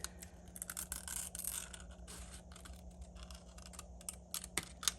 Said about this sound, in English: I find kitchen shears work really good for cutting this plastic.